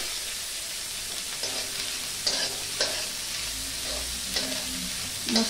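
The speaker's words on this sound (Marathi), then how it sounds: "मस्त कांदा गुलाबी रंगावरती परतून घेऊया।" Chopped onion fries in a pan under a steady, close sizzle while a spatula pushes it around in a handful of soft, irregular scraping strokes.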